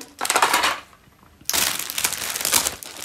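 Paper packaging crumples and crinkles up close in two loud bursts separated by a short pause, with no talking.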